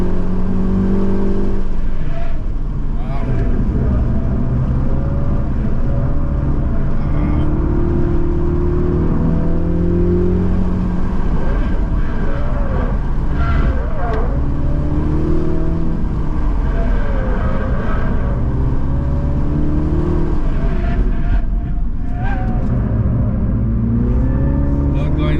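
A 2023 MINI John Cooper Works S with a manual gearbox accelerates hard on a performance driving track, its engine note rising and falling through the gears. The sound is loud and steady inside the cabin, with people talking over it.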